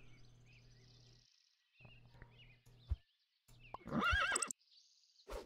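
A horse whinnies loudly in Super Auto Pets, a single cartoonish neigh amid short game sound effects and chimes, with no talking.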